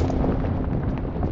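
A grenade explosion in the video game BGMI, a loud, close, rumbling blast with heavy low-end noise sustained through the whole short moment, no voices.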